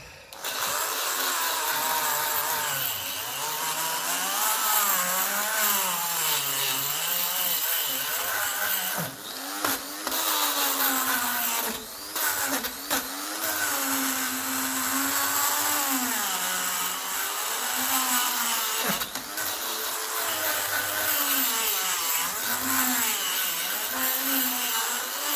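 A Dremel rotary tool grinds on a part of a 1954 Ferguson 20 TEF diesel tractor, a high, continuous whine that rises and falls in pitch as the load changes, briefly dropping off a few times, close and loud.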